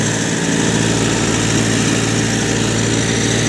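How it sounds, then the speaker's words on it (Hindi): A Massey Ferguson 1035 40HP tractor pulls a loaded trolley up a steep climb, its engine roaring loud and steady with a constant droning throb throughout. "देखिए किस प्रकार दहाड़ रहा है ट्रैक्टर"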